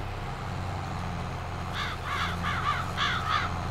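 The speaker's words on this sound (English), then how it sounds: "Nice crow sounds." Crows in the Farming Simulator 22 game caw in a quick run of harsh calls over a low engine hum from farm machinery.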